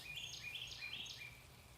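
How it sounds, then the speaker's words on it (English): A bird repeats a short, bright chirping phrase several times in a steady rhythm, faint and distant over quiet background, at an Easter sunrise in Peachtree City, Georgia. "Meanwhile, listen to the birds singing."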